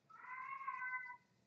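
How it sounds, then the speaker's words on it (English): A cat lets out a single drawn-out meow, fairly faint and heard alone in a quiet room. "Can you hear the cat?"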